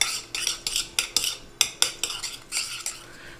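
A utensil stirs lemongrass chicken marinade with brown sugar in a bowl, giving repeated scraping, clinking strokes in an irregular rhythm, close and fairly loud, with no talking.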